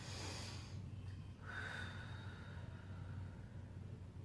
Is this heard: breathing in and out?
yes